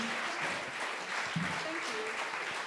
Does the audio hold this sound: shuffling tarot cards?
no